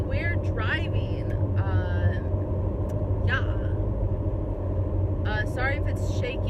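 Steady low road rumble and tire noise from a car driving on a winter highway, constant and close, with a voice talking over it on and off.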